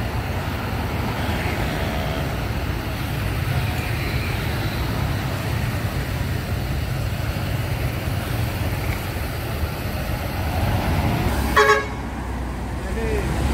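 An ALS 300 Patas bus pulling away toward Medan, engine rumbling steadily, then one short, loud horn blast near the end, with people talking and road traffic around it.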